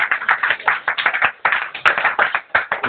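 A church congregation applauding in praise, loud and close, with steady rhythmic clapping that pulses through the whole stretch, carried by many hands together.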